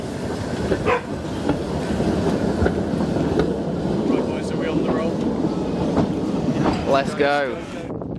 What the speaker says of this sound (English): We all went out to chase the train up the line.